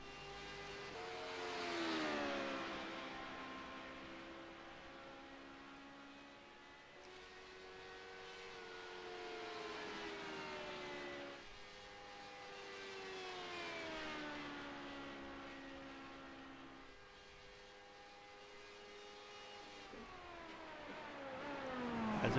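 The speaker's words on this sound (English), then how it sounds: "Casey Carrington out on track in the number 9 Honda LMP2" A Honda LMP2 race car circles a track during qualifying at Miami Speedway, its engine note rising and falling in repeated upshift sweeps as it passes at a moderate distance, fading and returning several times with no talk.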